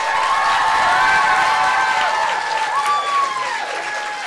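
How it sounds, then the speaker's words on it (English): An audience at a youth poetry slam event in Glasgow applauds with steady, dense clapping that holds for about four seconds and fades slightly at the end, with a few voices faintly audible in the crowd. "Big round of applause."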